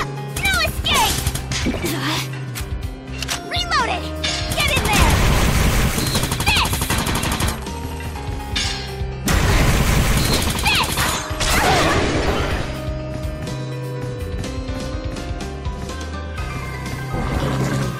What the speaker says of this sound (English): Anti-demon machine gun.